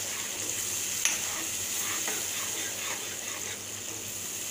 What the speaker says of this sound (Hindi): टमाटर और काजू का पेस्ट डालेंगे, फिर इसको अच्छे से मिलाएंगे।